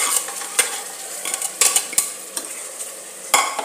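Rice being stirred into puliyogare tamarind mixture in a pressure cooker: a steady scraping stir with sharp spoon-on-metal knocks at irregular intervals, close and fairly loud, with no talking.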